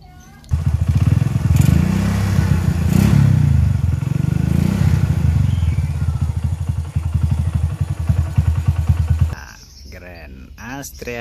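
A Honda Astrea Grand motorcycle engine fitted with an aftermarket BRT CDI idles steadily and loudly at close range for about nine seconds, with faint voices in the background, then cuts off abruptly before brief talk.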